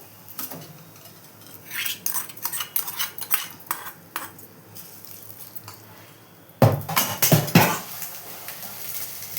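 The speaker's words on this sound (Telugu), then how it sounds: "ఈ పోపునంతా మనం ఈ పెరుగన్నంలో కలిపేసుకోవాలి" A spoon stirs fried tempering into curd rice for daddojanam prasadam, giving scattered metallic clinks and scrapes against the vessel, then a louder, busier burst of mixing near the end, with no talk.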